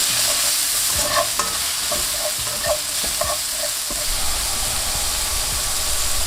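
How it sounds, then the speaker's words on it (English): Ground beef sizzles in a pan with onions, spring onion whites and garlic as it is broken up and stirred: a continuous loud frying hiss broken by scattered utensil scrapes and knocks, no voices. "Now break down that beef and really cook this mixture."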